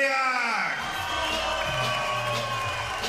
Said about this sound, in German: da jubeln die Frauen gerade besonders laut